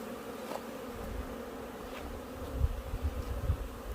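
Hornets buzz steadily close by around a hornet trap at an apiary, a continuous droning hum with a few louder low thumps and passes toward the end.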